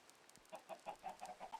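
Chickens in the Minecraft video game cluck in a quick, fairly even series of about eight short calls over a soft background, fading in after a quiet start.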